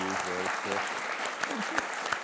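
Audience applause at a St. Luke's talk, a brief patter of clapping mixed with a voice speaking at the start, the claps scattered and moderately close.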